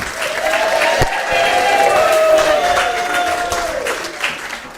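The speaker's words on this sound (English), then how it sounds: "Round of applause. And a cheer." An audience at a live Saturday night show applauding and cheering, loud continuous clapping with whoops and crowd noise filling the room, a voice briefly audible within it.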